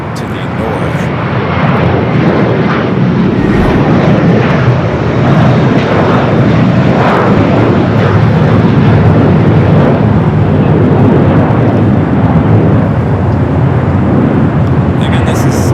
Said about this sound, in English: Again, this is Delta Flight 773. Flight coming in from JFK.